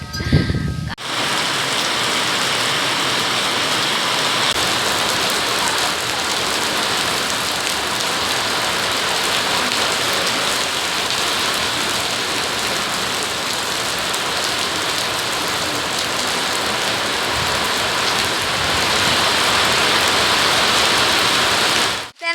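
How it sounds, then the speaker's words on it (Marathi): Steady, heavy rain pours down without a break during an early-morning downpour in rural Konkan, India, a dense, close hiss that fills the whole scene with no voices. "मंडळींनो आज सकाळ पहाटे 4 वाजल्यापासूनच आमच्याकडे पाऊस पडतोय"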